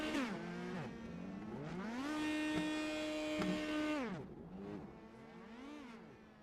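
An Indy Pro 2000 race car in iRacing spins donuts at Circuit de Barcelona-Catalunya, its engine rising and falling in repeated revving swells, holding a long high-pitched wail before dropping into shorter throttle blips.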